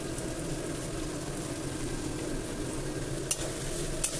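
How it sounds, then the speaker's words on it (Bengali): Chopped onions with a little salt fry over very low heat in a pan, giving a steady soft sizzle with a few scraping stirs near the end and no voices. "পেঁয়াজটা একটু ভাজা হতে থাকুক।"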